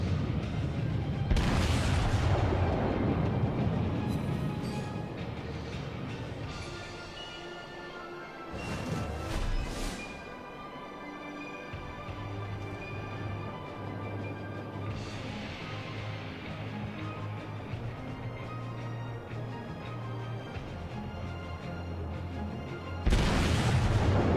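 Naval guns fire in a World of Warships battle, heavy booming salvos and crashing blasts rolling over a constant low rumble, with no talk.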